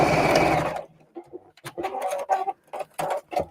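A sewing machine stitching fabric pieces of a small game bag whirs in a steady run, then turns to short, start-stop bursts of stitching with brief pauses between, close and clear.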